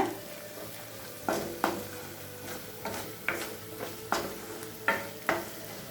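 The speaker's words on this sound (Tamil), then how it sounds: "இப்போ மிளகாத்தூள் வாசனை போக 1 நிமிஷம் வரைக்கும் நல்லா வதக்கிக்கலாங்க" Chili powder sautéing in a pan for Tamil fish curry, a low steady sizzle broken by a series of distinct scraping stirs of a spoon against the pan, repeating roughly every half second to second, with no talking.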